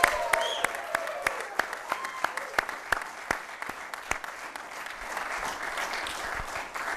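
An audience applauds at a Nasdaq opening bell ceremony for an IPO, a moderate round of clapping with distinct close claps that gradually thin out over several seconds.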